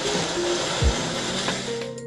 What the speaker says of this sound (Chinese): 把斑斓叶剪碎，加入水榨汁